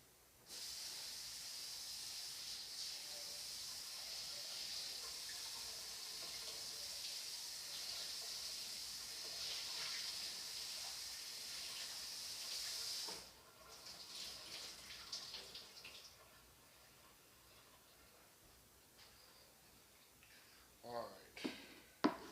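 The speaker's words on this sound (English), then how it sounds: "take our cucumbers and give them a quick rinse in the sink" Tap water runs steadily into a kitchen sink while cucumbers are rinsed, a continuous hissing spray that stops abruptly, followed by quieter handling clatter and a few sharp knocks.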